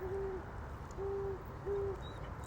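An owl hooting far off in the dark, three steady, even hoots spaced about a second apart over a low background rumble.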